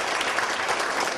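Dense, steady applause from an audience at an award ceremony in Csetény, continuous and fairly loud with no pauses.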